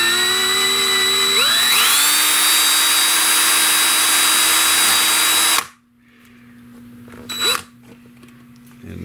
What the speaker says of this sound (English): insert the drill bit into the knob, and hold it up there tight and drill.